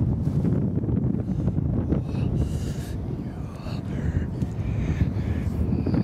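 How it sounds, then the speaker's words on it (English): Strong wind roars and buffets the microphone continuously, a loud low rumble with faint voices barely audible beneath it. "It's so windy out here."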